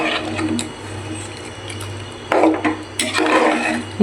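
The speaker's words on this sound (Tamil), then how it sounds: "அதை இது கூட போட்டுருவோம். நல்லா கிளறி எடுத்துக்கலாம்." Washed rice tipped into a pot of Hyderabad biryani base and stirred, with coarse scraping and grainy shuffling bursts over a steady low stove hum, close and moderately loud.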